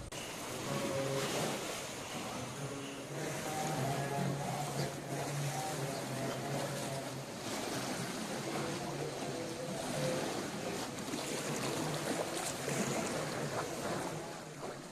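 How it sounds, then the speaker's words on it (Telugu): The flooded Godavari river surges past the Pushkar bathing ghats at Dharmapuri. The steady, broad rush of water is heard from a distance and stays even and fairly faint throughout, with wind mixed in. "ఇక దాంతో పుష్కర ఘాట్లను తాకి వరద ప్రవహిస్తోంది."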